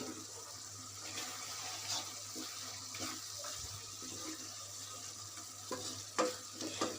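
Dried-fish curry with coriander leaves being stirred in a pan, a steady low sizzle with soft scraping strokes and a few sharper clinks near the end, no voices.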